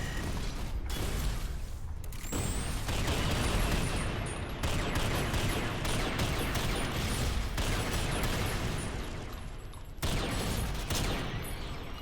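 Rapid gunfire in SYNTHETIK 2 rattles almost continuously, loud and dense, broken by brief pauses where clicking, ratcheting reload mechanisms are heard.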